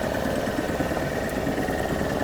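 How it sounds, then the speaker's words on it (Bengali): A motor boat engine runs steadily on Chilika Lake in Odisha, India, a continuous close, even drone with vibration and no speech. "তো আমরা রেডি নৌকা শুরু হচ্ছে আমাদের আজকে চিলকা রাইড"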